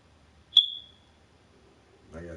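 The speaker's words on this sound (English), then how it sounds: "I gotta do something about that smoke detector." A smoke detector chirps once, a single sharp high tone that rings briefly in a quiet room, before a voice starts speaking.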